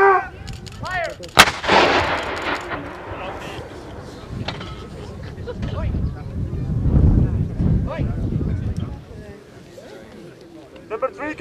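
An artillery gun fires at a fort during a British reenactment: one sharp, loud blast with a long rumbling echo, preceded and followed by shouted commands in the open air with wind noise.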